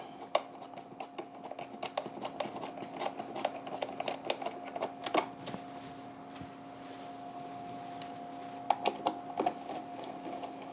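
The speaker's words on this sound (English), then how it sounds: "Putting these screws back in." Screws go back into the battery cover of a Cyber Power GX1500U UPS, with faint scattered clicks and taps of small screws and handling over a steady low electrical hum.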